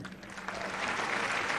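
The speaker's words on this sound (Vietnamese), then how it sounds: "một tràng pháo tay thật lớn dành cô gái rất xinh đẹp, cô gái Di An Trịnh Minh Hiền." Audience applause at a gala award ceremony, clapping that starts moderate and swells louder, a broad crowd wash heard at some distance with no talk.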